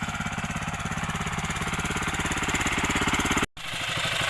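A small old Japanese mini tractor plowing soil chugs loudly with a fast, regular knocking rhythm, close by, briefly cutting out near the end before resuming.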